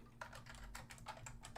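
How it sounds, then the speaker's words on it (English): Steady, close-up typing on a Keyboardio mechanical keyboard, with a rapid run of distinct clacky keystrokes over a low background hum and no voices. "do you have a mechanical keyboard? Sounds like mechanical."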